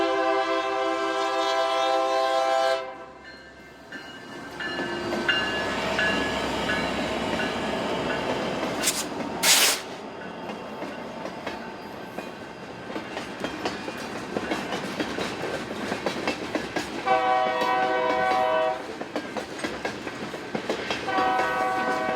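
A BNSF freight local rolls through near Irwindale, its horn sounding in long loud blasts at the start and again later, with rumbling wheels and clickety-clack from the railcars in between.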